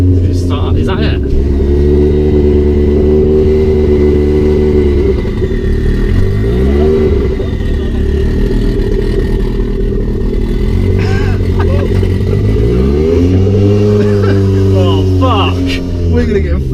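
Engine noise from a turbocharged Vauxhall Corsa at the Santa Pod drag strip holds a loud, steady drone, swelling in two rising and falling revs, with a voice heard over it.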